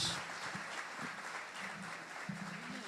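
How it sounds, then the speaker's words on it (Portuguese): A church congregation applauds with a soft, even clatter of many hands clapping at a distance, steady throughout. "Uma salva de palmas como boas-vindas"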